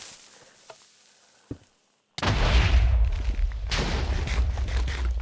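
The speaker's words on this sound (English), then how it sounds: "that's the fastest cannon I could find" A TNT cannon fires in a video game: after a quiet stretch with a couple of faint clicks, a loud booming explosion erupts and rumbles on, followed by a rapid series of further blasts.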